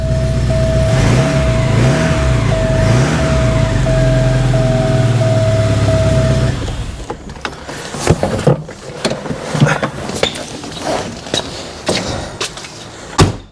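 Porsche 944 Turbo engine idling just after first fire-up, a loud steady rumbling drone with a whining tone that cuts off about halfway, followed by clunks, rattles and knocking handling noises.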